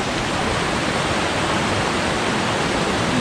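Raging creek in northern Wisconsin near a small waterfall, water rushing in a dense, steady roar that fills the whole stretch without pause.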